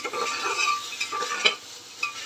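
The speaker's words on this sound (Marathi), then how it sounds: "चिकन चांगली फ्राय झाले आहे" Chicken pieces sizzling and frying in a pan for chicken soup while being stirred, with steady crackle broken by scraping strokes and clinks of the spoon.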